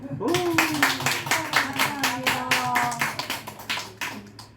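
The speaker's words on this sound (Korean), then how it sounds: "우리 권사님들에게 다시 한번 격려의 박수." A church congregation claps in encouragement for deaconesses at a prayer gathering, a fairly close burst of rhythmic hand claps heard while a voice speaks over them.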